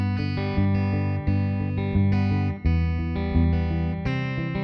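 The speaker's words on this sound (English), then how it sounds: "That's going to give it a little bit of a mute sound like this." A guitar plays a palm-muted fingerstyle Travis picking pattern on broken chords, a steady rhythm of short damped plucked notes, close and alone with no voice.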